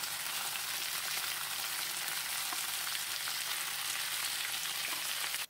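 Boiled chicken stir-fried in a pan sizzles in a steady, bright hiss with faint scraping as it is stirred, continuing evenly before cutting off abruptly at the end, with no one speaking.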